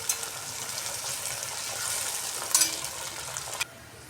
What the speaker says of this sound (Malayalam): ഇങ്ങനെ എല്ലാം വറുത്ത് കോരണം.